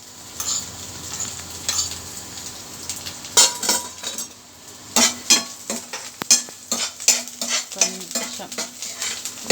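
Vermicelli being stirred in a hot pan, with repeated scraping and clinking strokes of a utensil over a soft sizzle, growing busier and more rhythmic toward the end; a voice briefly speaks.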